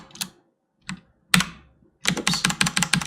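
Several sharp keystrokes on a computer keyboard, sparse isolated taps at first, then a quick burst of rapid typing, close and clear with no talking.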